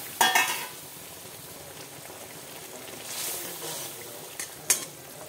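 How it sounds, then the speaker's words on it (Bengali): Fried parshe fish goes into a boiling spicy curry gravy, with a pot and utensil clatter at the start, then a steady bubbling sizzle, a stir, and a couple of sharp metallic taps. "ঝোলটা ফুটে গেছে, দিয়ে দেবো মাছগুলো ভেজে রাখা।"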